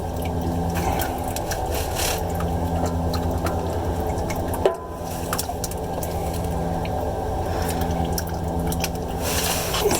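Old engine oil drains from an RV into a pan in a steady pouring, splashing trickle, loud and close, with a brief clunk partway through.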